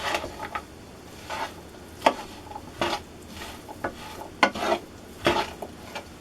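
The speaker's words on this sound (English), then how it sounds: "take your spoon here and y'all kind of mix it all up together now" Spoon stirring tomato sauce for spaghetti and meatballs in a pot, a series of short scraping, clinking strokes at an uneven rhythm, close and fairly quiet with no talking.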